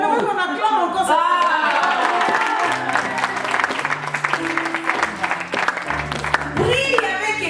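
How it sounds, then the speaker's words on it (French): A church congregation applauds loudly during a Sunday service, sustained close clapping and cheering over several seconds, with a voice and music continuing underneath. "J'aimerais qu'on acclame encore ça."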